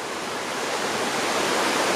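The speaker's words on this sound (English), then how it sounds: "this creek going that way past the waterfall" Steady broadband rush of a creek flowing past a waterfall, a continuous close, even roar of water with no voices.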